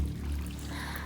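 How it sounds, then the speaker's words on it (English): Water pouring and trickling steadily in the video game Hellblade 2, a close continuous flow with no voices. "Water everywhere"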